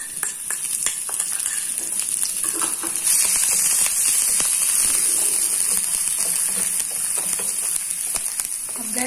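Ginger and green chili fry in a hot pan with a loud, continuous sizzle, while a spoon scrapes and stirs in irregular knocks close by.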